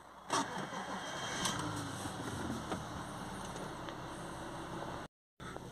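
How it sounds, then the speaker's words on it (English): An Audi A4 3.0 TDI V6 diesel engine cranks and catches early, then settles into a steady, close-up idle that continues to the end, broken by a short gap of silence near the finish. "as soon as we start the car back up"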